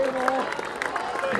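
A crowd at a school athletics meet claps steadily as a runner comes in at the end of a 1000 metre race, a dense patter of applause with a voice speaking over it.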